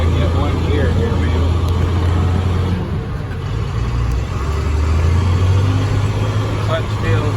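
A 2004 International Interstate Battery truck drives with a loud, steady engine drone and low rumble throughout, the pitch dipping briefly mid-way as a gear change comes through, with no talk over it.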